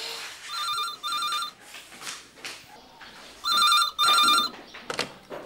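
A telephone rings in repeated double bursts, two trills, a pause, then two more, with other sounds in the gaps between rings.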